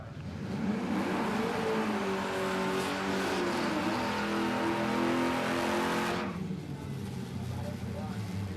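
A J-class drag racing car launches down the strip at Palmyra Raceway, a loud engine roar with rising revs that cuts off sharply near the end, with a commentator talking over it.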